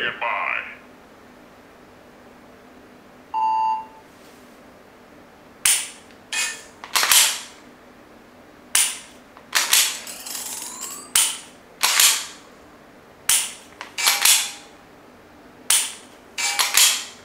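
A sharp shot-timer beep, then a string of about ten quick clicky laser training pistol shots at uneven intervals, crisp and close with quiet pauses between.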